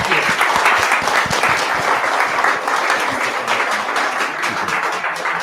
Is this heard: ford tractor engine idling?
no